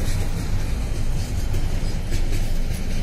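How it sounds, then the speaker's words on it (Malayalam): A train rolling past, a continuous loud low rumble and roar that stays steady and close for the whole stretch, with no voices over it. "Lion. A train."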